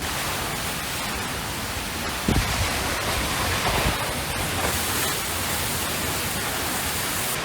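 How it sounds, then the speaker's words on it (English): Steady broadband roar of a waterfall heard from a walkway behind the falls in Southern Idaho, a constant loud rushing wash with a few brief knocks partway through. "I'm walking behind a waterfall."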